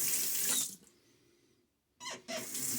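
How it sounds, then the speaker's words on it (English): Tap water splashes and runs into a bathroom sink while rinsing stubble and lather during a wet shave, two close bursts of splashing separated by a brief quiet gap. "Splash of water."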